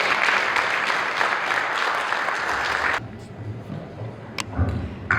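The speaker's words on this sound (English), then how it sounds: "Another round of applause for Ms." Conference audience applauds after a speech, a dense wash of clapping for about three seconds that stops abruptly, leaving room noise and a few scattered thumps.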